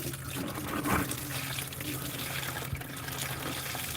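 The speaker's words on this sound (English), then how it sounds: "Oh man, it's filling that bucket fast." Liquid pours steadily from a milkshake machine's drain into a bucket, a continuous rushing, splashing stream that stays loud throughout, with a brief swell early on.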